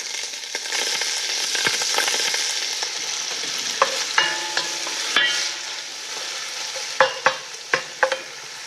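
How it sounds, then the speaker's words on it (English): Leeks and garlic sizzle steadily in a hot pan with continuous frying hiss, stirred with scraping and several sharp utensil clacks against the pan toward the end. "we'll put them in right in with the"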